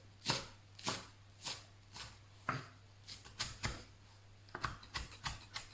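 A knife chops through rolled-up herbs on a cutting board in a home kitchen, quiet crisp taps in an uneven rhythm, single strikes at first and then quicker clustered cuts, with no talking.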